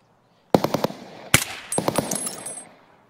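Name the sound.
gunfire from the video game Escape from Tarkov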